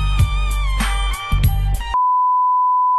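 A sustained pure censor beep tone cuts in abruptly after a couple of seconds of clipped, cut-up sound and holds steady and loud to the end.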